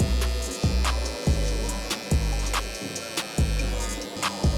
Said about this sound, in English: the reason I'm coming in with my clipper before my trimmer to establish this bald line